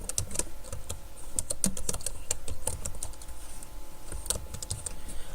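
Fingers type on a computer keyboard in quick, uneven bursts of close, crisp key clicks with short pauses, no voices.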